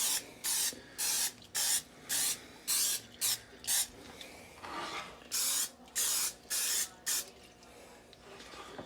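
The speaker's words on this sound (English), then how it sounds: "I like to take this spray olive oil and I actually just spray the outside of it lightly" An olive oil aerosol can sprays in a series of short hissing bursts onto a prime rib roast, about a dozen quick puffs with brief pauses between, close and fairly loud.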